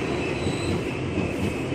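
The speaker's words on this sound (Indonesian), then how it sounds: "jalur 12 ya masuk lagi nih komuter tujuan Bogor" An eight-car Tokyo Metro 6000 series commuter train bound for Bogor arrives at Manggarai station platform, a steady close rumble of wheels and carriages with thin high metallic squeal tones overhead and no talking.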